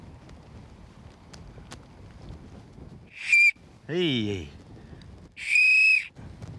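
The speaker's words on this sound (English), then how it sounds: "This one's a good whistle." A loud, shrill whistle is blown through a shell, sounding in two short piercing bursts with a voice calling out between them over quiet outdoor background.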